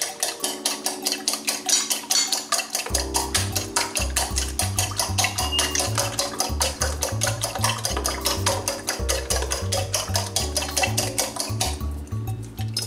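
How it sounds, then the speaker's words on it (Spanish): Three eggs are whisked with a fork in a bowl, a fast, steady run of close clinking taps that continues for several seconds over rhythmic background music. "Ahora, batimos los 3 huevos. Como para tortilla."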